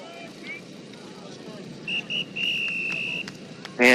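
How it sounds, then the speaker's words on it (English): A referee's whistle sounds at halftime of a youth JV rugby match, with two short chirps and then a long sustained blast over outdoor crowd ambience, followed by a sharp burst at the end. "And with the ref's whistle, that brings us to halftime."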